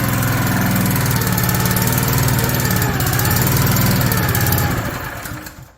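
Small gasoline engine on a DIY mini excavator running with a bit of throttle, a loud steady close chugging idle that fades out as the engine dies at the end.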